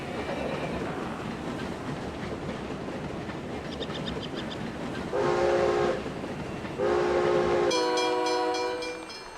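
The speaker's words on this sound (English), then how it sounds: "A train has entered the station." A steam train rolls into a station in the video game SteamWorld Build, steady rumbling clatter of wheels with several short whistle and horn blasts toward the end, no talk.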